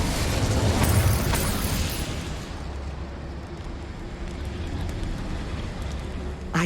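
The Incendio fire spell from Hogwarts Legacy erupts in a loud burst of roaring flame that fades into a lower, sustained whoosh, with a brief pop at the end.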